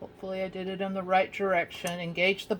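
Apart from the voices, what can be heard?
No everyday noise stands out behind the speech.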